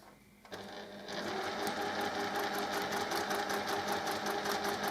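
Sewing machine stitching the corners of a fabric pouch with a kam snap fastening. After a quiet start it runs at a fast, even, rhythmic clatter, close and steady, with no one speaking.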